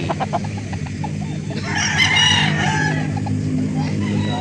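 A Kelso Rosa gamefowl rooster crows once at a fowl market in Calauan, Laguna. The call is loud and drawn out over a steady crowd murmur and other birds.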